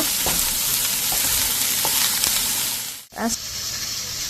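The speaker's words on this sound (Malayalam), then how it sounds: "ആസ്പരാഗസ് ഇട്ട് കഴിഞ്ഞിട്ട് നമ്മൾ ചുമ്മാ ഒന്ന് ഇളക്കി കൊടുക്കുക" Asparagus sizzles and fries in a pan on the stove for a Kerala-style thoran, a steady loud hiss with light stirring scrapes, briefly cut off near the end before the sizzle resumes.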